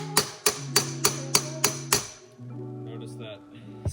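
Hammer tapping a new wheel bearing into a 2008 GSXR 600 sports bike wheel: seven sharp, evenly spaced metallic strikes with ringing overtones, then a brief lower ringing tail, close and loud.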